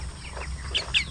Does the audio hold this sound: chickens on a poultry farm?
yes